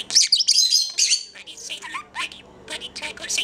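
A pet budgie chirps and squawks up close in a home, bursts of sharp high tweets and chattering calls with short pauses between them, and soft human voices occasionally mixed in.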